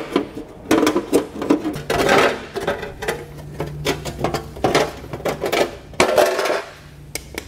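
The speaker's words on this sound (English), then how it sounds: "I'm just going to use a pair of tin snips to do this and get all this material removed." Tin snips trim a metal heat shield on a 2020 Chrysler Voyager, producing a quick series of sharp, crunching metallic snips and clinks at close range, irregular in rhythm, with brief pauses between cuts.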